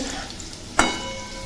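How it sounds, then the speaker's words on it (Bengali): Potatoes fry in a pan for ghugni cooked with mutton fat, a soft continuous sizzle broken midway by one sharp scrape or clink of a utensil against the pan. "আলুগুলো ভেজে নিচ্ছি"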